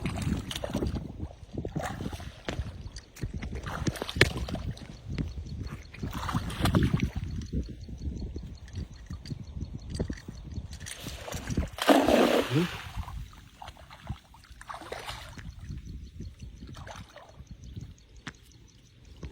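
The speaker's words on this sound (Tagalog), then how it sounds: "Lakas ng agos oh." A strong river current surges and splashes around a small fishing boat, with irregular gushing bursts of water, bumps against the hull and gusts of wind buffeting a close microphone.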